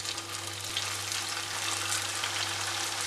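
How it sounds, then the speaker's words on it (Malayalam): Semiya vada fry in hot oil over a low flame, making a continuous, even bubbling sizzle that holds steady and close throughout, with no talking. "ചൂടായ എണ്ണയിലേക്ക് നമ്മളിവിടെ തയ്യാറാക്കി വെച്ചിരിക്കുന്ന ഓരോ വടയും ഇട്ട് കൊടുത്ത് ഫ്രൈ ആക്കി എടുക്കാം"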